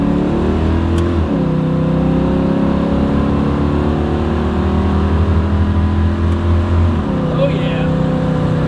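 A 1969 Camaro ZL1 big-block V8 roars loud and close as it accelerates down a straightaway, its pitch climbing through the gears with a shift early on and another near the end.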